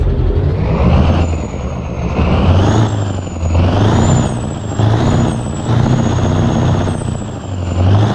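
A heavy truck engine in American Truck Simulator rumbles continuously and loudly, heard from outside the truck, with a deep idling drone and faint high whine, steady throughout with no talking.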